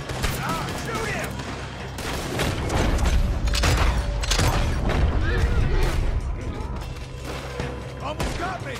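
A Red Dead Redemption 2 shootout with rapid, loud volleys of gunshots and booming reports crackling in dense bursts, while voices speak over the fire throughout.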